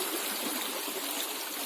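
A small river stream flows in a steady, close, hissing rush of water, continuous and unbroken, with no voices over it.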